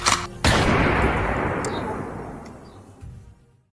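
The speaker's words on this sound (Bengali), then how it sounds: "শুধু একটাই গুলি।" A single sharp gunshot effect bursts out loudly and decays into a long rumbling echo over a few seconds.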